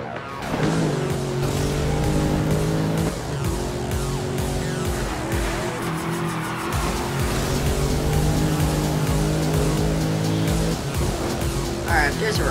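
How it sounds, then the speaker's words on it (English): Car racing and skidding in Need for Speed Rivals, a steady loud engine drone with tire squeals and skids throughout, under someone talking. "Oh, that's a car."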